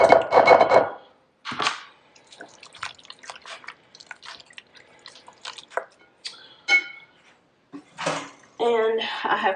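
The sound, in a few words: stirring a food mixture in a bowl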